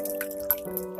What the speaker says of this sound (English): Here I am washing the paneer because I don't want that sour taste in my dessert.